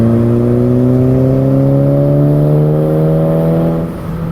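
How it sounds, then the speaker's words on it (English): Volkswagen GTI MK5 exhaust rumbling as the engine revs steadily upward in third gear, a loud, close, continuous droning growl with rising pitch that eases off near the end. "I like the way my exhaust sounds. Hear that rumble?"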